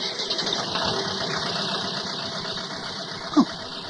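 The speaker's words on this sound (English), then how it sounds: "At that moment, Marcel hears a motor start." A car motor runs as an audiobook sound effect, a continuous rough engine rumble with a steady idling drone, one brief knock near the end.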